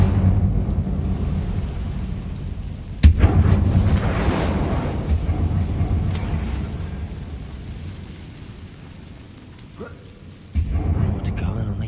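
Incendio fire spell cast in the video game Hogwarts Legacy: a sudden loud fiery burst with a roaring rumble that swells and fades over several seconds, followed later by a second abrupt burst, amid ongoing game ambience and voice.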